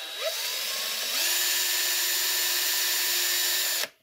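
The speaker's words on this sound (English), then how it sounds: "the little hole that you just drilled out" A small drill whines steadily while boring a pinning hole into a miniature model's arm, a close, continuous high buzz that shifts pitch once and stops abruptly near the end.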